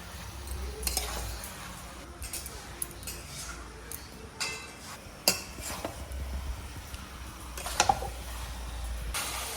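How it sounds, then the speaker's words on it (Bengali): Chicken is stir-fried in a pan for a Bengali curry, with a utensil scraping and clinking against the pan in irregular strokes over a soft sizzle and faint background noise. "এবার মাংস দিয়ে খুব ভালো করে কষে নেব"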